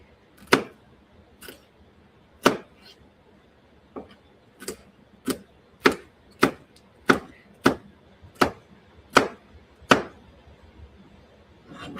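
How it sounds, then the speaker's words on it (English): A knife cutting into the flesh of food during a cooking class, heard as about a dozen sharp, distinct chops spaced roughly evenly, close and clear against a quiet background. "I'm actually going to go ahead and cut inside the flesh"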